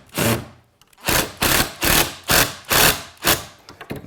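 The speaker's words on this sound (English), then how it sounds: "I'm using an impact driver this time." An impact driver drives screws into solid oak for van cabinet face frames, a loud series of about seven rapid hammering bursts, each roughly a third of a second long, close up with no talking.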